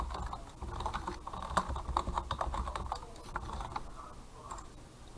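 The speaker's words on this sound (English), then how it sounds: "Type in a password." Rapid clicking keystrokes on a computer keyboard as a password is typed, a close burst of taps that thins out toward the end.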